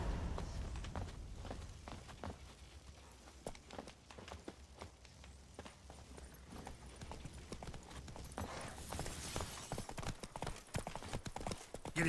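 Horse hooves clip-clop steadily while riding in The Witcher 3 video game, a rhythmic galloping patter of footfalls running throughout over a constant background bed, with no speech.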